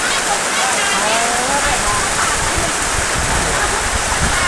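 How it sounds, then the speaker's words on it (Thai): Steady, dense downpour of heavy rain hissing across the whole clip, loud and continuous with no pauses. "ฝนตกแรงจริงฝนตกแรงจริง"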